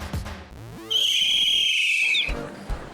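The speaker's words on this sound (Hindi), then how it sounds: "सीटी बजाना क्या सिर्फ लड़के ही जानते हैं?" A shrill whistle blast sounds for about a second and a half, held loud and steady and then cut off, between brief low thumps and rustles.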